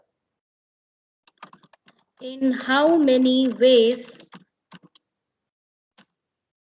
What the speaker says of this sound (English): I am typing this over here.